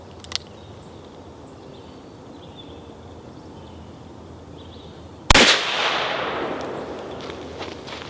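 A single sharp, loud gunshot from a Taurus Raging Bull .44 Magnum revolver at a shooting range cracks out after several seconds of quiet outdoor ambience, then rings off in a fading echo.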